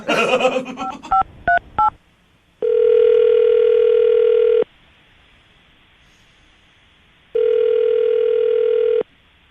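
A telephone call placed to a pregnant woman opens with a quick run of dialing tones, then two long steady ringback tones separated by a pause of faint line hiss.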